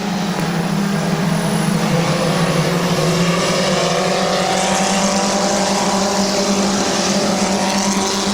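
Race cars roar around the oval at Midvale Speedway in a loud, steady engine drone, with the pitch rising and falling as the pack circles the track.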